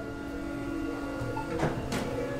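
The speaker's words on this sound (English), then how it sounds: "what's wrong with this printer?" An office printer running while printing non-disclosure agreement papers: a steady mechanical hum with two louder sweeping feed or slide noises near the end, heard alone with no talking.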